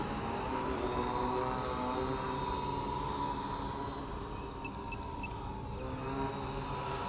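A Hoverthings VC-550 camo quadcopter on a 4S 14.8 V lipo battery flies outdoors, its rotors giving a steady high buzzing whine with faint tonal bands that holds at an even level throughout.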